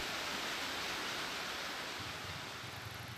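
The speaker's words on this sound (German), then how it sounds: "Im Berge rauscht der Wasserfall." The Trümmelbach waterfalls in the Swiss mountains rush in a steady, dense roar of falling water that fills the whole stretch without a break.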